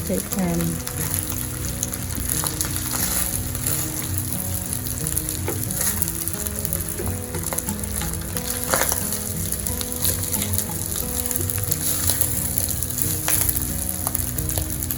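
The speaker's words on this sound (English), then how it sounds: "So you stir, as if you're stir frying, but this time around it's stir fry in palm oil." Steady oily sizzling and crackling of jollof rice ingredients stir-frying in palm oil in a pan, with occasional scrapes and clinks of stirring, continuous throughout.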